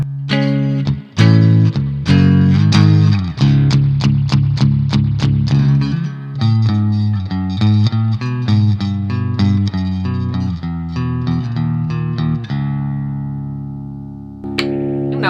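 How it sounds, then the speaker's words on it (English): Clean-toned LTD Horizon Deluxe H-1001 electric guitar played through both pickups with reverb, loud and close: a run of struck notes and chords ringing with lush tails, dying away near the end before a final strum. "Let's hear how the both pickups sound with the reverb."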